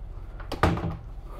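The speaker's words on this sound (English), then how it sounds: "Privacy door here that you can close." Inside a 2021 Newmar Dutch Star 4081 motorhome, a privacy door slides and shuts with a brief close thud, preceded by a light scrape.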